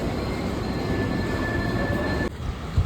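A train pulling into Khar railway station in Mumbai, a loud steady rumble of wheels and carriages with a thin high squeal running through, then an abrupt drop and a brief knock near the end; no voices.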